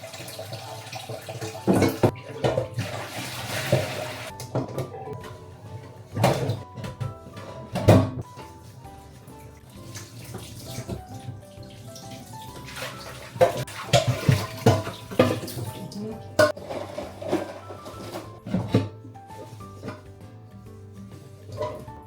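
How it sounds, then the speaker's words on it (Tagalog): Pork ribs are rinsed under running tap water in a kitchen sink, with a steady splashing stream close by and intermittent clatters and knocks as the meat and bowl are handled. "Hugasan na siya natin sa running water."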